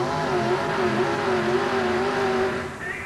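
A 1988 USHRA monster truck event in Anaheim, where a 468 cubic inch gasoline engine drones in a loud, sustained steady roar with a brief shift in pitch near the end.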